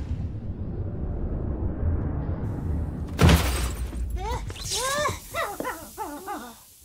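A computer monitor smashed in the 2017 Hurvínek puppet film, a single sharp crash of breaking glass and plastic, followed by whining, moaning vocal sounds.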